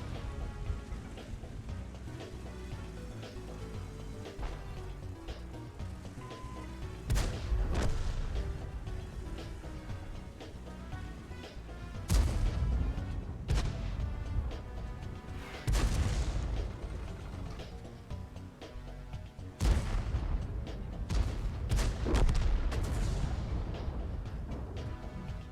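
Tank guns firing in a tank battle video game, several heavy booming shots spaced through the clip over a constant low rumbling background, moderately distant.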